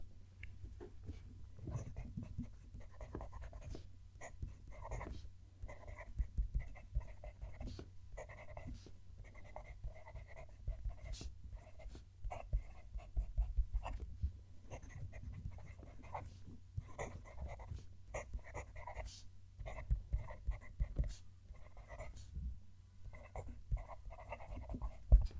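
A Just Turnings Enceladus fountain pen scratches softly across paper while writing a sentence, picked up by a close microphone as faint, irregular strokes over a low background hum.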